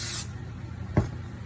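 A temporary adhesive spray is applied to heat transfer vinyl in a short hissing burst at the start, followed by a quiet hum and a brief soft knock.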